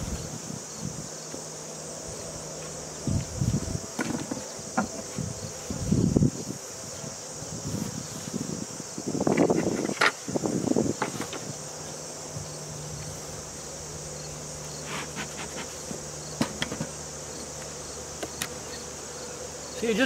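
Honeybees buzz around an opened hive during an inspection of a split colony, a continuous insect drone with louder close passes swelling and fading as individual bees fly near.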